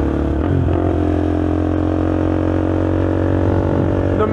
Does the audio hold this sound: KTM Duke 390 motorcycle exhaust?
yes